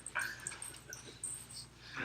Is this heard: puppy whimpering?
yes